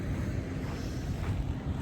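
Wind gusting steadily outdoors on a winter campsite next to a parked van, a continuous low rumbling buffet across the microphone with no talk.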